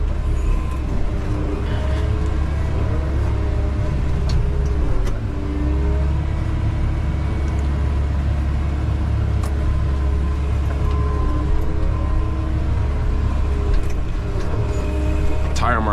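The engine of a Caterpillar 908M loader drones loudly and steadily from the cab while it digs and slowly lifts its boom. A voice talks over the rumble.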